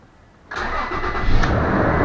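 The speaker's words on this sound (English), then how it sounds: "I'm gonna start it up and see how it sounds" A 2007 Toyota Tacoma engine, fresh from a cylinder head and head gasket job, cranks and catches suddenly, then settles into a loud, steady idle up close with a slight rev swell.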